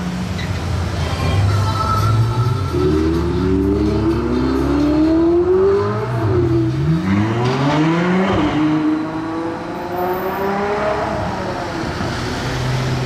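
A Ford Focus RS sports car revs and accelerates nearby on a Monaco street, engine pitch climbing repeatedly through gear changes in rising sweeps, loud and continuous with traffic noise around it.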